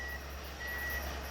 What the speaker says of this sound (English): it sounds like normal CSX work machines